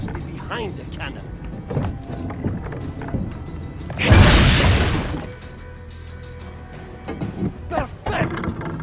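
A cannon fires once in the Assassin's Creed video game, a loud booming blast midway that rolls off over several seconds, set amid game ambience with voices talking before and after.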